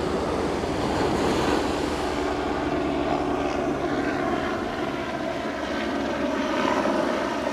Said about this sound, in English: Got a helicopter flying overhead.